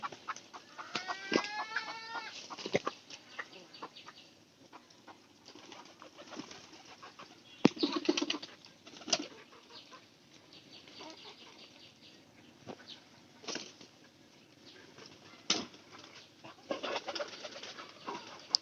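Pigeons fed maize grain coo and cluck on and off while wings flap in sharp bursts throughout, a busy loft close by with no talking.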